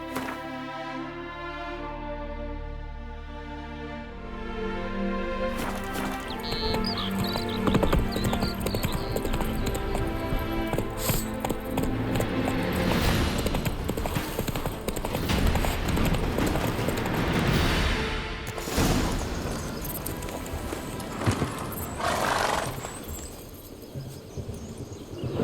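Hooves of a galloping horse clip-clop rhythmically in The Witcher 3 video game, starting under a musical score and building into a fast, close gallop with game music continuing beneath.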